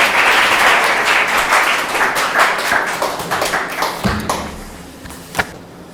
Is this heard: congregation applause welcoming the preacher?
yes